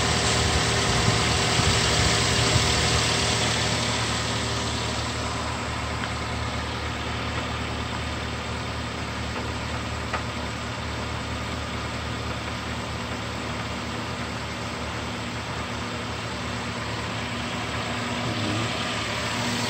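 A car engine idles steadily while the air-conditioning system draws in freon from a can during a refill, a constant close hum with no voices.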